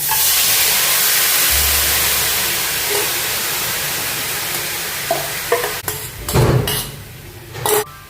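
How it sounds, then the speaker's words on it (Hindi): Raw mango and jaggery mixture goes into a hot wok, at first a steady broadband hiss, then louder irregular stirring scrapes and sizzling bursts toward the end, with no talking. "तो अभी इसमें डाल देंगे जो मिक्स किया है हमने गुड़ और आम, वो इसमें डाल देंगे।"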